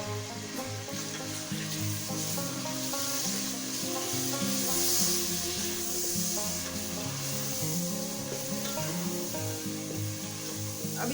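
Two large chopped tomatoes frying in a pan for white channa pulao, a continuous close sizzle with scraping and rubbing from a spatula stirring throughout, and no voices.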